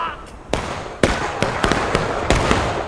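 Artillery cannons fire in a Civil War battle video game. Six or so sharp, loud reports crack out at irregular intervals over a constant rumbling battlefield background.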